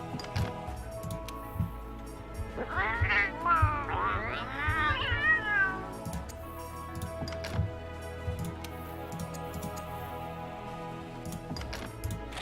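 A cat in the game Monster Hunter World gives a drawn-out, wavering meow, close and clear over a soft ticking game background, with no talk.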